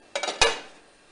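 Two ceramic clinks close together as plates are set down, the second sharper and ringing briefly.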